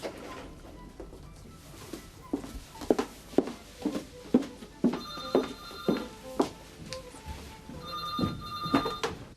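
An old-fashioned telephone bell rings in repeated bursts in an office or shop, moderately loud and close, with clattering background noise between rings.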